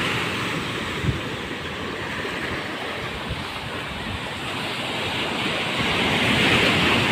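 Steady roar of ocean surf at a beach resort after a typhoon, waves washing in continuously and carrying debris, rising a little toward the end, with some wind buffeting the microphone.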